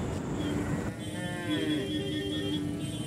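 Heifer cattle at a livestock market, a single drawn-out moo rising and falling over a busy background murmur of the market crowd.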